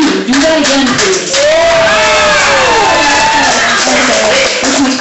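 A comedy club crowd at Straight Up Martinis erupts in loud, sustained cheering and whooping with scattered clapping, a dense, close roar of voices filling the whole stretch.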